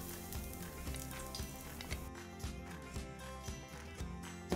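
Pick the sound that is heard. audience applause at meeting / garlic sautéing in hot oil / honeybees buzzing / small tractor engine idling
garlic sautéing in hot oil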